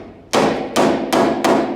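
A hammer strikes dented car body sheet metal during panel repair, landing four sharp, ringing metallic blows at a steady, even pace, close and loud.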